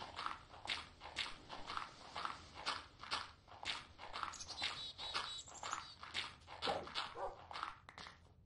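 A dog in the video game Minecraft gives a rapid run of sharp, evenly spaced barks, close and clear, repeating steadily with no voices over them.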